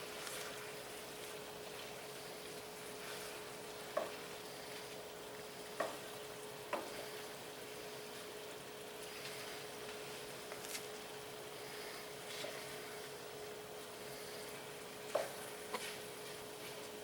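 Seafood paella with shrimp cooks over high heat, giving a low, steady sizzle with occasional small pops and clicks for the whole stretch.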